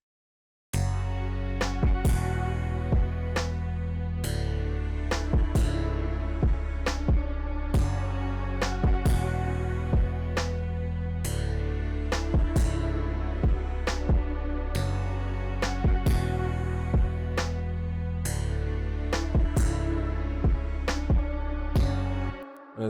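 Full hip-hop beat loop with augmented vocal samples and a counter melody, steady and loud throughout, with punchy regular drum hits over layered sustained tones and no talking.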